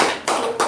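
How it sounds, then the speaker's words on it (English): Audience applause at a Toastmasters club meeting, a short burst of dense hand clapping from a small group in a room, loud and close with two quick swells. "Let's give him a thunderous round of applause"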